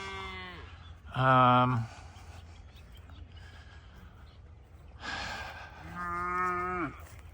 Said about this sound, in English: So Carnation is Pumpkin's mother. She's a good looking cow.